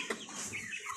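Colombian Brahma chickens, three months old in light and buff colours, cluck softly in a brief, faint burst of fowl calls with no talking.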